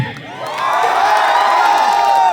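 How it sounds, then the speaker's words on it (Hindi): A family fete crowd cheers and whoops loudly for Narendra, the voices swelling after a brief lull and holding strong to the end. "नरेंद्र जी के लिए जोरदार तालियां"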